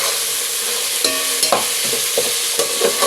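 Green chili, curry leaves, mint and coriander tossed in a hot pan for egg biryani: a loud continuous sizzle with several quick scraping stirs of a spoon, close up and without speech.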